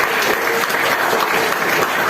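Audience at a stand-up comedy show in Bali claps in a brief, dense burst of applause, steady and fairly loud throughout with no voices on top.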